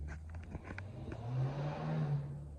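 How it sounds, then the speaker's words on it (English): A Dodge car engine revs somewhere outside, a faint, distant rising drone that swells and holds briefly before easing off. "I don't know if you guys hear the Dodge out there"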